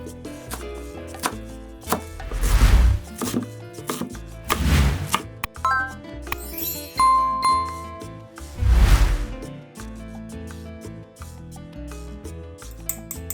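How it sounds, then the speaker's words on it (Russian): Ordinary green onion chopped with a knife on a board for a traditional Iranian ash-e doogh soup: several bursts of quick, crisp cutting strokes separated by pauses, with a few light clinks of utensils, close and clear with no talk. "Возьму обычный зеленый лук. Нарезаем."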